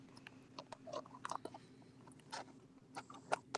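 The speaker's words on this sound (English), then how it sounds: "I hear chewing and scraping against the plastic spoon" Someone chews food close to the mic while a plastic spoon scrapes against a container, giving irregular soft clicks and scrapes with short gaps between them.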